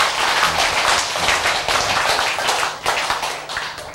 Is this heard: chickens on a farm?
no